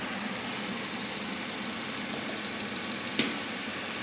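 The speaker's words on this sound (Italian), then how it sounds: "il motore per ora gira bene" A Renault Clio 1.2 three-door engine running steadily with a continuous droning hum, and one brief click near the end.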